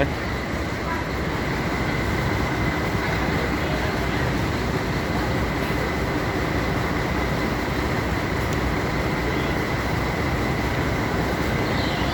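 A vehicle engine starting and running loud and steady right up close, a dense continuous rumble with broadband roar that holds level throughout, no pauses.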